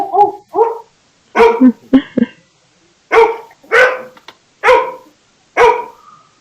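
A dog barks about eight times in short, loud, close bursts, the first two paired, then a rapid double yelp, then evenly spaced single barks, with no talk over them.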